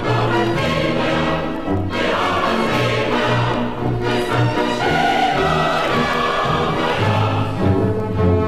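Dunaevsky's March of Enthusiasts plays from a poor-quality old film recording, with a full, dense orchestral and vocal sound that stays loud and continuous throughout and has a worn, muddy tone.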